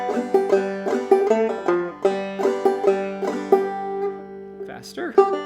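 A clawhammer banjo plays the A part of the old-time tune June Apple, bright plucked notes in a bouncy repeating rhythm with ringing drone strings, close and clear.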